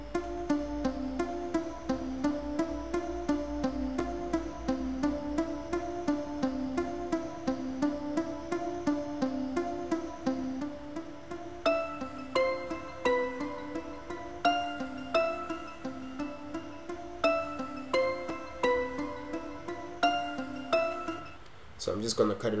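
An FL Studio melody plays alone: a steady, looping synth pattern with a regular pulse, later joined by brighter plucked notes and percussive hits. No voices are heard over it.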